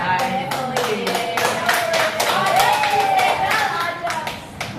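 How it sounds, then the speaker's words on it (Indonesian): A high-school class claps for a student group in a classroom, a few dozen hands giving loose, uneven rhythmic claps close by while a voice speaks over it. "Oke, yuk, tepuk tangan"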